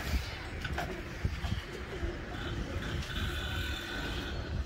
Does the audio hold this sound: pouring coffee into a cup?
no